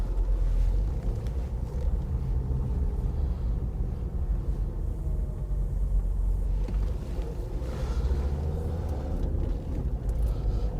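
A car's low, steady interior rumble with road and wind noise continues as it slows and turns around on a dead-end road in Chartham.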